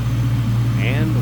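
A 1998 Ford Mustang SVT Cobra coupe with a BBK throttle body idles smoothly, a steady low engine hum running throughout under a voice.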